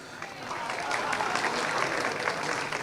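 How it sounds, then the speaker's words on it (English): Crowd applause at a Formula Ford 1600 podium ceremony, a dense, fairly distant roar of clapping at moderate level with faint voices mixed in. "Matt, take the applause, Matt Wrigley."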